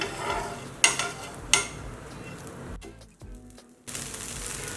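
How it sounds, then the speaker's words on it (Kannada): Jowar millet dosa fries on low flame in a pan with a soft steady sizzle, broken by a few sharp clicks of a utensil and a brief quieter moment before the sizzle resumes. "ಲೋ ಫ್ಲೇಮಲ್ಲೇ ಒಂದು ಸೈಡು ಗರಿ ಗರಿ ಆಗುವವರೆಗೂ ಬೇಯೋಕೆ ಬಿಟ್ಟಿತ್ತು"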